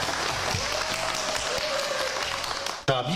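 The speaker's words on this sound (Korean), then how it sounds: "박수로 시작할게요" Steady applause from an audience opening a Saturday auction at the Gurye Sangsaeng market, a dense, even wash of clapping that holds for about three seconds before cutting off abruptly.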